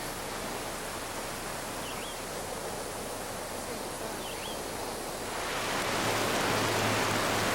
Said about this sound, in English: smack that nice little wave hole down there, out the tail waves